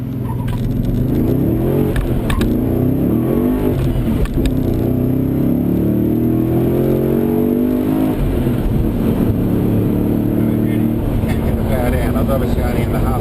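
A 760 rwhp Vortech-supercharged VE GTS roars steadily under full-throttle acceleration in third gear, the pitch climbing through the gear, loud and continuous throughout.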